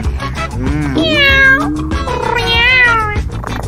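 A hungry house cat meows loudly twice, long rising and falling cries close to the listener, following a brief murmur from a person.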